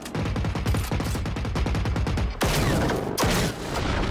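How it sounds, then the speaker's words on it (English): Enemy gunfire in Generation Zero, rapid sustained automatic bursts hammering close and loud, a brief gap, then heavier blasts and more firing continuing to the end. "I want to try and survive this guy shooting at me."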